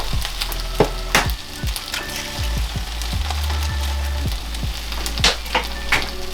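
Eggs frying in a hot skillet on a hibachi-style cooking surface, a steady close sizzle with scattered sharp crackles and pops, no talking.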